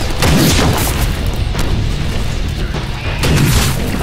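A grenade blast in the Deadpool video game, with loud booming bursts rumbling through a continuous roar of heavy battle noise, swelling again near the end.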